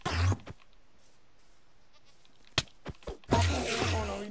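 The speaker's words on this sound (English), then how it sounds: "There's a goat." A goat in a Minecraft survival game gives brief bleats at the start and again near the end, with short clicks between them over faint background hiss.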